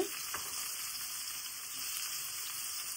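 Chopped onions fry in a pan with a soft, continuous sizzle, opened by a brief stirring scrape, and the crackle stays fairly faint and even throughout with no talking.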